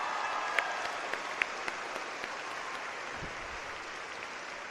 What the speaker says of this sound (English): let's give them a huge round of applause for supporting you through this amazing accomplishment